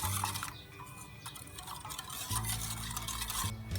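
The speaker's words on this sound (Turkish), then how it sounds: "topaklanmaması için devamlı karıştırarak muhallebi kıvamına gelene kadar karışımımızı pişiriyoruz" Pudding mixture for strawberry magnolia being stirred continuously in a pot on the stove, a steady scraping swirl of thick liquid with a low hum underneath, close and fairly quiet, no talking.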